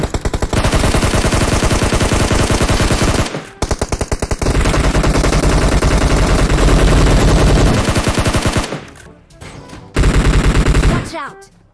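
Gunfire in the video game PUBG Mobile rattles in loud, sustained automatic bursts, dense and close, broken by a few brief pauses before firing resumes and then fades out.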